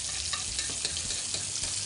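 Monkfish browning in butter in a casserole over low heat, a steady close sizzle with soft stirring scrapes running throughout, no voices.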